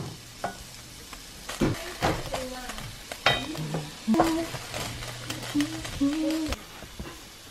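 Garlic and onion sauté in a little avocado oil for Filipino-style spaghetti, with a soft steady sizzle broken by repeated stirring scrapes and clinks of a utensil against the pan, close and moderately quiet.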